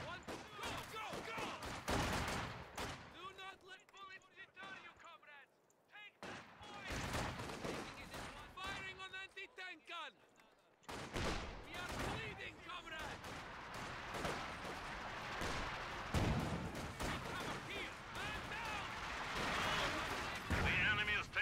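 Artillery blasts and rapid gunfire from a Company of Heroes 2 battle, with dense repeated explosions and bursts of shooting across the whole stretch, interrupted by brief lulls, while in-game voices call out orders over the combat.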